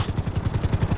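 A GTA V helicopter's rotor chops in a rapid, even rhythm over a low engine hum, loud and up close.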